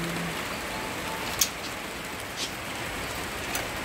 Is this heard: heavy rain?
yes